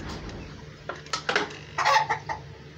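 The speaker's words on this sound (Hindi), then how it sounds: "ये मुर्गा और ये मुर्गियाँ तीन मुर्गियाँ और एक मुर्गा" Three hens and a rooster cluck in short, scattered bursts close by, with a low steady hum underneath and no talking.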